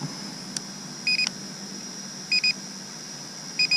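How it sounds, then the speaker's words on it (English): An SJRC Z5 drone camera beeps while recording to its SD card: pairs of short, close electronic beeps repeat at regular intervals of about a second over a faint steady hum. "The beeping noise is because it's recording to the SD card"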